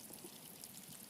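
Sewer water drains steadily down a blocked pipe after a reciprocating-saw cut relieves it, a continuous, faint trickling pour with no break.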